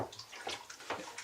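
Honey must for mead poured into a container, a brief, faint, close splashing and sloshing of liquid.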